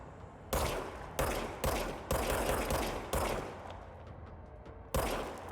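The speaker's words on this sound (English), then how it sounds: "Now I have a gun. Left click to shoot." Gunshots in the video game Control: about six loud, sharp blasts spaced roughly half a second to a second apart, each trailing off in a reverberant decay, with no other sounds.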